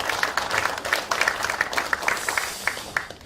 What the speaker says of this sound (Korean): 우리 대표한테 박수 한번 좀